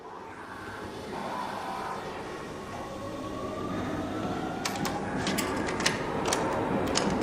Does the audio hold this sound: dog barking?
no